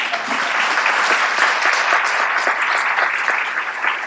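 A large crowd claps steadily at a political speech, dense and sustained applause filling the whole stretch at an even loudness.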